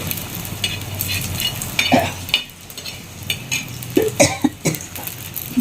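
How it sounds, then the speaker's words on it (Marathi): Chili and onion frying in a pan, giving a steady sizzle with stirring scrapes throughout, broken by a few coughs from someone nearby. "चांगली भाजली मिरची आणि कांदा हे ओलं होतं ना"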